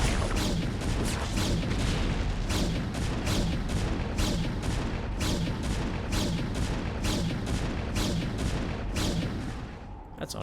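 Cannon firing on a pylon in a real-time strategy game, a rapid series of booming shots repeating roughly every half second over a dense rumbling battle din.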